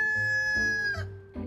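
A rooster crows once, with chickens clucking briefly near the end, at a church's animal farm that also keeps black goats and rabbits; close and clear, no talk.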